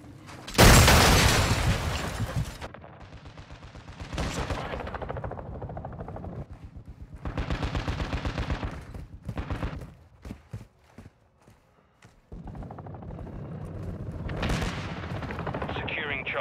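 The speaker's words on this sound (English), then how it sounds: "Taking fire over here." Dense, loud gunfire from Call of Duty: Modern Warfare II at Breenbergh Hotel comes in sustained bursts and booming volleys, broken by a short lull, with game voices heard over the battle.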